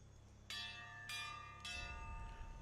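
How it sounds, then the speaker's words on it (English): A bell in Pillars of Eternity 2: Deadfire tolls three times at steady intervals, each bright metallic strike lingering over a low ambient hum, with a rumbling swell rising underneath toward the end. "Who's rung the bell and why?"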